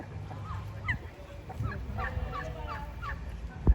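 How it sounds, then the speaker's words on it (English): A flock of domestic heritage-breed turkeys gobbling in rapid, warbling bursts at a moderate distance, several birds calling over one another against a steady outdoor background on a farm in Viñales, Cuba. "these are a heritage breed turkey"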